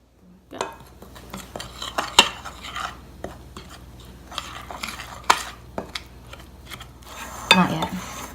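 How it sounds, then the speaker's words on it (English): Biscuit dough ingredients stirred and mixed in a mixing bowl, giving scattered scraping and clinking knocks of utensil against the bowl, moderately close, with a few louder clacks and little talk. "you need to mix until all the ingredients are blended together"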